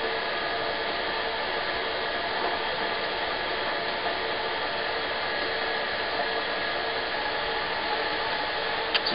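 An electric mixer whirs steadily as it blends cinnamon roll paste, a constant loud motor drone with faint rattling mechanical texture that runs unbroken throughout, with no voices.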